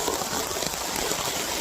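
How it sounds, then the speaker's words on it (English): Heavy rain comes down hard outdoors, a dense, steady, loud hiss of drops pattering on surfaces with no pauses, close by and with no one talking. "I really did not expect it to be raining this hard."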